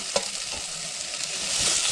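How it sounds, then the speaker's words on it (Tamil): Carrot, brinjal and tomato sautéing in a hot pan, a steady close hiss of sizzling oil with a faint stir knock early on. "இந்த காயில் நல்லா 1 நிமிஷம் வதங்கணும்"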